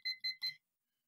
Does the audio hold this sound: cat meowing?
no